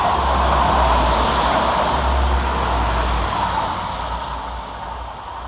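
Two coupled Class 172 diesel units, 172211 and 172212, pass through Tyseley railway station with a steady, broad rumble and hiss that holds loud, then slowly fades as the train moves away.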